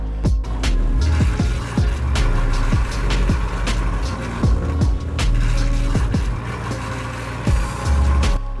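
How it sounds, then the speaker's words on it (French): A hydraulic pump loses and regains prime as it draws air through a vortex in the suction line, giving a loud, churning rumble broken by irregular knocks and sputtering bursts as air slugs pass through. "La pompe s'amorce, mais perd rapidement de son amorçage par l'air pompé, puis se réamorce à nouveau dans une situation de turbulence."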